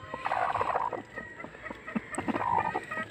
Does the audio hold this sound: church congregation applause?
no